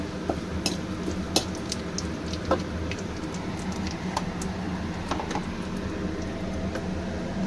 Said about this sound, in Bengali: একটু জিরে এই দিলাম আমি ফোড়ন